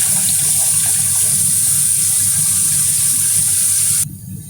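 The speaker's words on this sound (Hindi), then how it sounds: "ये आप छन्नी से इस तरह छान लें।" Soaked chana dal is strained through a sieve, with water pouring in a loud, steady rushing stream that cuts off abruptly near the end.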